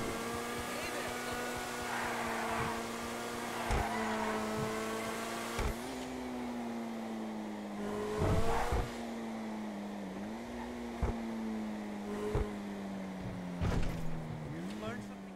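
A sports car engine in Grand Theft Auto drones and revs, pitch rising and dipping through gear changes, with brief sharp bursts and a voice talking quietly underneath.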